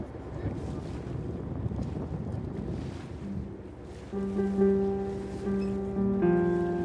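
Wind buffeting across open sea aboard an RNLI lifeboat, a steady loud rushing roar that persists throughout, joined later by a low engine drone; faint talk is mixed in.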